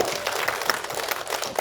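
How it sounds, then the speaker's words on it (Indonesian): An audience at a press conference for the film Rumah Singgah applauds the cast, giving moderately quiet, scattered clapping that carries on through the moment with a slightly uneven rhythm. "tepuk tangan untuk para pemain yang luar biasa"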